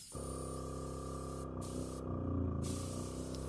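A Gaahleri TurboX mini airbrush compressor running a GHAD-39 airbrush sprays in a steady, even hiss that holds for several seconds with only slight swells in loudness, close and alone.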